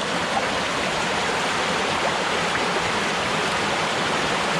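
Water in a woodland stream rushes steadily into a tunnel, a constant loud hiss without pause or voices.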